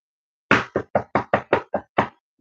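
A person vocally imitates knocking on a door: eight quick, evenly spaced percussive beats, close and clear, followed by silence.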